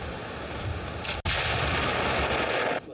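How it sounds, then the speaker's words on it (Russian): A 400-gram explosive charge is detonated at a test range, giving a sharp, loud blast partway through that cuts across steady background noise, with no talk. "Несложно себе представить силу таких разрушений, если на полигоне взорвали всего лишь 400 граммов."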